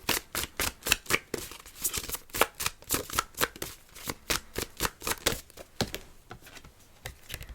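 Zodiac cards for a tarot reading are shuffled by hand in a quick, even series of crisp riffling bursts, close and fairly quiet, with no talk.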